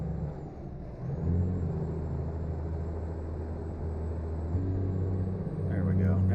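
Heavy truck engine in American Truck Simulator, a loud steady diesel rumble that dips and shifts pitch as it drops a gear, then builds again, close and continuous.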